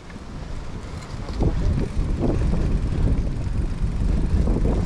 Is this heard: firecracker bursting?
no